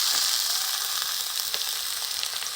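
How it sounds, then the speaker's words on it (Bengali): Chopped tomato frying with already-fried onions in a pan, giving a steady, bright sizzle with faint crackles throughout, close and unbroken, with no talking. "পেঁয়াজ ভাজা হয়ে গেছে, এবার একটা টমেটো কুচি দিয়ে দেব"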